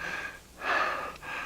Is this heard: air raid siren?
no